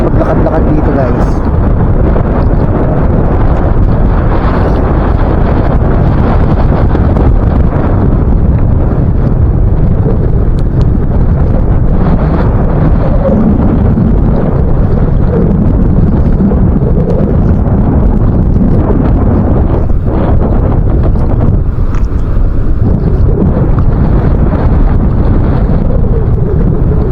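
Strong wind blows steadily off the open sea, a loud, continuous low roar buffeting the microphone throughout with little letup, water moving beneath it.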